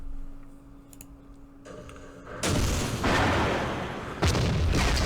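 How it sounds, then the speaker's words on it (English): Artillery shells strike in the Vietnam war game Campaign Series Vietnam: quiet ticking and clicks give way to a sudden loud rumbling barrage, followed by a second heavy impact near the end. "Let's grab our artillery. Hit that blasted position."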